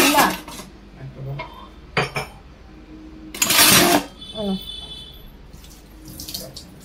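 Dishes, pots and cutlery are washed in a kitchen sink under a running tap. Water gushes in bursts, and metal utensils clink and clatter close by while someone talks over the washing.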